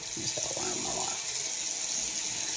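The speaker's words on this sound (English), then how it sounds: "you're going to add some lukewarm water" Lukewarm tap water running steadily from a faucet into a sink, a close, even rushing hiss with a few brief gurgles at the start.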